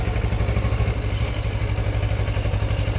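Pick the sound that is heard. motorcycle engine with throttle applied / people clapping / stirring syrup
motorcycle engine with throttle applied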